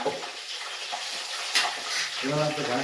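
Onions frying in a pan and being stirred, close-up sizzling with scraping spatula strokes and a brief sharp clink, and faint voices under it toward the end.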